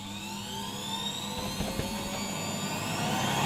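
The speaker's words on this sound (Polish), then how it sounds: "i włączmy teraz odkurzacz" Czechoslovak Tiger 808 vacuum cleaner switched on, its motor whine rising steadily in pitch as it spins up, loud and continuous with a rushing airflow roar.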